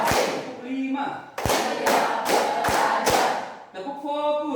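Students clap together in a focus-clap classroom ice-breaker, sounding as a few loud, sharp, evenly spaced claps in a short rhythmic burst, with voices before and after.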